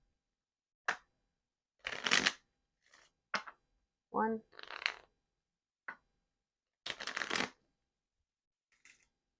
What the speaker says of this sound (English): So let's try this again. We're gonna shuffle.